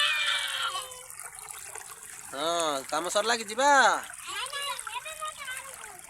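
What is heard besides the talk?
washing sandals with water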